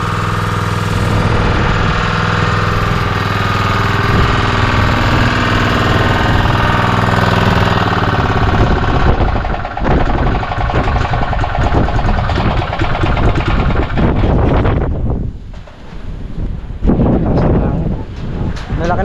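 A small Robin engine runs loudly and steadily throughout, rattling and droning, with wind buffeting the microphone; the roar dips briefly near the end.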